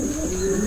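A blue bar pigeon gives a short, low, throaty coo, close by and fairly clear against a faint steady background hum.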